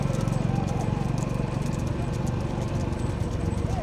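Bulls' hooves pound rapidly in a bullock cart race, a fast rhythmic drumming that is loud and close, with constant crowd and road noise mixed in throughout.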